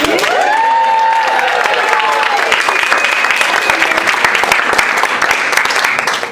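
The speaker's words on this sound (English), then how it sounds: "let's give a round of applause to the Air Force String Quartet" Loud, sustained applause and cheering from a crowd at an evening event at the Vice President's residence, honoring the Air Force String Quartet. Voices call out over the clapping early on, and the applause continues through to the end.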